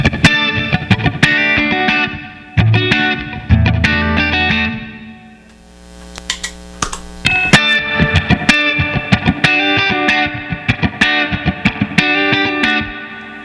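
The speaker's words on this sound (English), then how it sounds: "Now I'm going to go to the room setting on the context here." An electric guitar played through a Red Panda Context reverb pedal on its room setting, with strummed chords and picked notes ringing into a short, roomy reverb tail, with a brief quieter pause midway.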